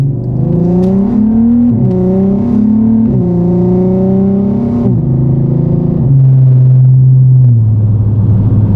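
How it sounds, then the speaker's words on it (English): A DSG-equipped car with a dogbone mount insert, driven in manual mode, rumbles at low revs with a deep, steady engine drone that steps through gear changes, close and loud inside the cabin. "That low down rev vibration is definitely there"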